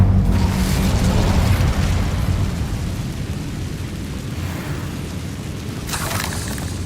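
A fire spell is cast in Hogwarts Legacy: a loud, sustained roaring burst of flame with a deep rumbling body that slowly eases off, then swells briefly near the end.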